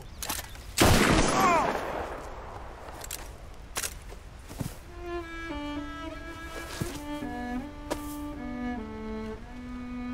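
A loud gunshot crack in Red Dead Redemption 2 rings out near the start, followed by scattered thuds and footsteps, then a sustained musical tone sequence over a low ambient bed.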